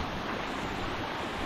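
Large volume of rushing water, a dense continuous roar with no breaks, loud and close.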